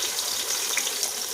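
Green chillies sizzle in hot oil with onions in a pan over a wood fire, a steady bright hiss of frying with no talk.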